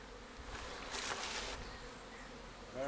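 Honeybees swarm over a heavy frame of capped honey lifted from an opened hive, a steady close buzzing that swells for a moment and holds throughout.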